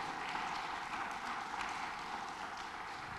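A congregation claps for Jesus during a Spanish-language church sermon: dense, sustained applause fills the room, loud and continuous with no voices standing out.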